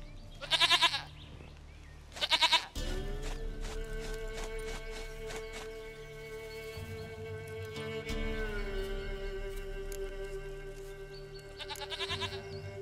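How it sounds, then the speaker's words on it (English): A goat bleats in Witcher 3, two short wavering bleats near the start and another at the end, set against a droning, sustained musical background. "Goat of mine, dearest, sweetest goat."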